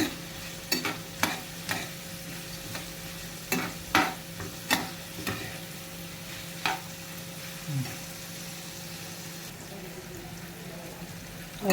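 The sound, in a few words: onions sautéing and frying in a pan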